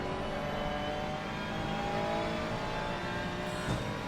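A Ferrari 296 GT3 race car drones steadily at high revs around Monza in Assetto Corsa Competizione, a continuous, loud engine whine with no talking.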